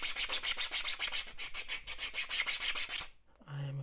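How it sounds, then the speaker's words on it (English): Close, rapid back-and-forth rasping as a fine sanding block rubs over a 3D printed fishing lure, about three seconds of rhythmic strokes that stop abruptly, followed by a brief soft tone. "Now we'll grab one of our sanding blocks that I showed in the other video, which is quite fine, and it actually smooths out these surfaces"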